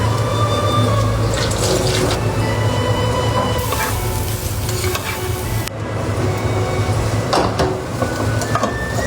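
Water goes into a wok holding household cleaning rags, making a loud, continuous rushing splash close by, with sloshing and occasional clinks over the full stretch.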